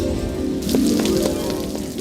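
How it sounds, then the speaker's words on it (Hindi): Steady rain in an animated cartoon patters and hisses on a surface, a continuous even wash of drops with no talking. "ओए देखो कितनी बरसात हो रही है"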